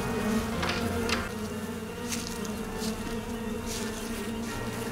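Steady, droning buzz of a swarm of bees in the Sucker for Love game hangs over the whole stretch, loud and continuous with faint rising swells, and no one speaks.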